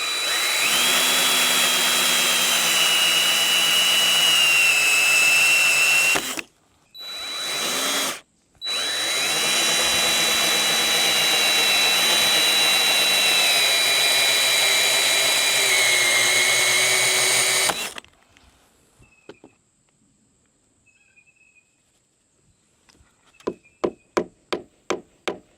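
A power drill drives fasteners into deck boards in long, steady, loud whirring runs with two short pauses, then stops, followed by a series of sharp taps near the end.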